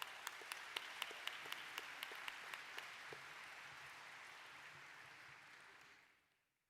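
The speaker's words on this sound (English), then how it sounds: "Let's give her a round of applause." Commencement ceremony audience applauding a graduate student speaker, a broad sustained wash of clapping with a few sharp nearby claps standing out early, holding steady before fading away at the end.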